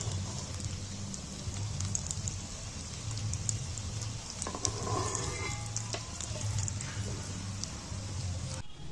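Fish balls frying in hot oil for a fish curry, giving a continuous dense sizzle with spattering crackle throughout and faint clinks of turning and lifting, no talk.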